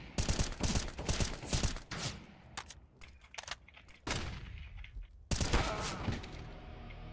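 AK rifle bursts in a multiplayer video game: loud, close rapid fire in several clusters with short pauses between, ending with another heavy volley.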